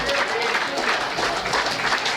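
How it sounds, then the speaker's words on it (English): Banquet audience at a Lions Club officer installation applauding a district governor, dense continuous clapping from a roomful of people, fairly loud and close, with a few voices mixed in. "District Governor Steve Patterson, if you would stand, have a round of applause"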